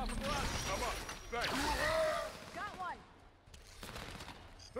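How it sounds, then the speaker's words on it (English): Gunfire from shooters in the video game Halo 5, with repeated bursts and shots mixed into game sound, heard under near-continuous excited talking. "Oh, you're shooting through the wall."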